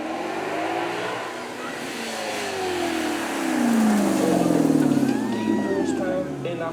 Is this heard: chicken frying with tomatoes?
no